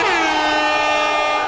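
A loud, blaring air horn sounds continuously and alone, a brassy blast holding steady without a break.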